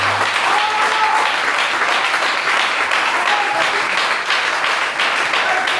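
A church congregation applauds loudly and steadily, the dense clapping filling the room without a break for about six seconds.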